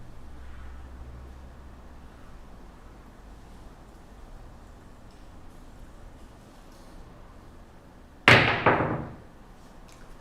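Craps dice thrown onto a casino table land with a single sharp clatter and short rattling decay near the end, following several seconds of quiet room tone.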